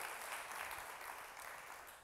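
A church congregation claps during a sermon, a short burst of even, fairly faint applause throughout.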